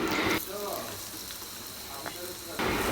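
Chopped potatoes go into hot oil with fried garlic, onion and green chilli and sizzle loudly in the pan, settling into steady frying, with stirring scrapes in between.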